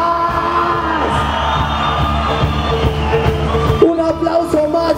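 A live concert crowd cheering and whooping at a show, with sustained broad roar and yells over steady music, loud and continuous throughout.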